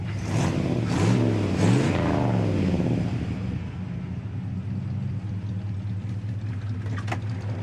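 A 1957 Chevy Bel-Air four-door hardtop in survivor condition revs its engine up and down in several rising and falling surges, then settles into a steady, rumbling idle close by.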